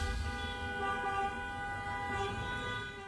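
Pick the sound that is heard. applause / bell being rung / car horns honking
car horns honking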